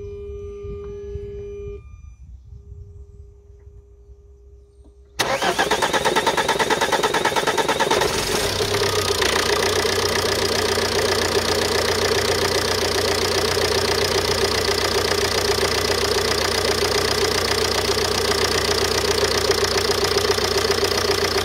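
After near silence with a faint tone, a Ford Mondeo Mk4 1.8 TDCi diesel engine starts abruptly, then idles loudly and steadily up close with a constant clattering diesel rumble that runs on without talk.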